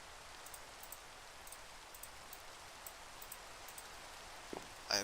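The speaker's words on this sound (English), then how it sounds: "I apologize for the rain." Video game rain falling steadily as faint soft hiss with scattered light drop ticks, and a brief sharper knock near the end.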